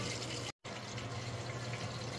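Tap water runs steadily as it is poured into a pot to boil for cooking fish, a loud, continuous splashing rush that breaks off for a moment before resuming.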